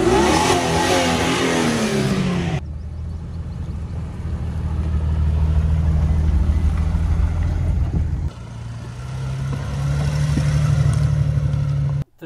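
A Jeep Grand Cherokee 4.0 ZJ engine revs while driving up a slope, starting with a loud roar, then settling into a sustained low drone that steps up in pitch partway through, heard close from inside or near the vehicle.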